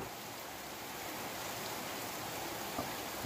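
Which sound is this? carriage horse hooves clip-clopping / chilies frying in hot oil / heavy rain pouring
heavy rain pouring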